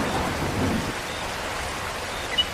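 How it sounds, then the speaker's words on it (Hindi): Cartoon rain falls in a steady, even hiss with a low rumble beneath it, continuous and fairly loud, with no voices. "देखो कितनी बढ़िया मौसम है, बारिश हो रही है।"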